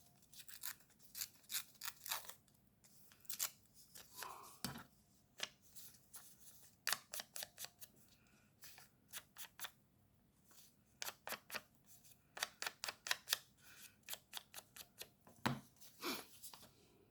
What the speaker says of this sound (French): je vais en déchirer un petit peu plus